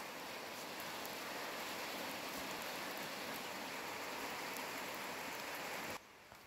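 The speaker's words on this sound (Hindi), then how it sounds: "बारिश हो गई है दोस्तों" Steady rain hisses over a jungle in a dense, even wash, close and constant, cutting off abruptly near the end.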